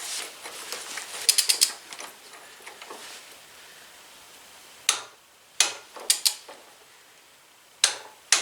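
Torque wrench tightening bolts on a Husqvarna Z254 zero-turn mower, heard as scattered sharp metallic clicks, a quick triple burst early on and then several separate snaps, close up over quiet background.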